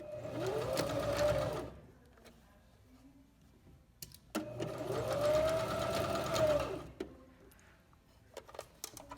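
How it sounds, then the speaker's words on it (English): A sewing machine stitches straps onto a small tote bag in two runs, each a steady whirring rattle lasting about two seconds, quiet and close, with faint clicks and handling noise between them. "So after you get your straps pinned on, you're going to sew them on."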